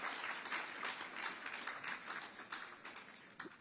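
Crowd applause fills an auditorium during a motivational talk: many hands clapping in a continuous, even patter, faint and roomy, with a few sharper individual claps near the end and no voices on top.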